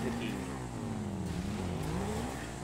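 A motorcycle engine in the video game GTA 5 drones and revs up and down under continuous talk, the game audio fairly quiet behind the voices.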